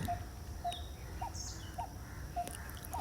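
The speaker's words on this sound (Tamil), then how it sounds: "எத்துணை துல்லியமாக தாளமிடுகிறது இந்த பறவை" A bird repeats a short, evenly spaced call in a steady, rhythmic pattern, faint and somewhat distant over a noisy outdoor background, with other chirps scattered around it.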